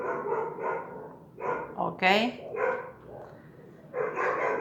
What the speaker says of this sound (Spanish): hay muchos perros, las casas tienen todos perros y cualquier ruidito ellos ladran